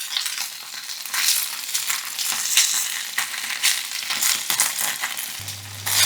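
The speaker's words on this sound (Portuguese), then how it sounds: "Vamos fritando bem devagar mesmo, para que ela não fique crua também." Pork sizzles and crackles steadily in hot oil, close up, frying slowly, with occasional sharper pops and stirring scrapes.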